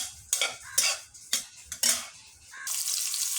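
Onions going into lightly oiled pan for a biryani meat dish, with a few sharp scraping and clattering stirs followed by a rising steady hiss of frying oil, close and without speech.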